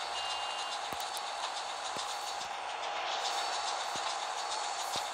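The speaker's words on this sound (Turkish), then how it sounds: "Tren geldi, min min!" Train pulling in inside the video game GTA San Andreas, heard as a steady rolling rumble with sharp metallic clicks about once per second, fairly close and alone without talk.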